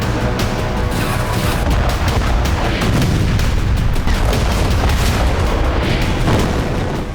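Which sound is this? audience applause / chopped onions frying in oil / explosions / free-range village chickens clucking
explosions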